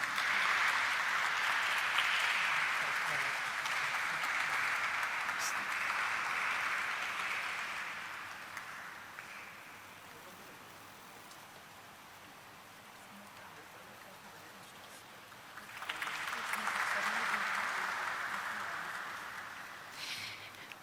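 An audience at a corporate event for Krssna Diagnostics bursts into loud applause, which fades to a low murmur and then swells again into a second round of clapping.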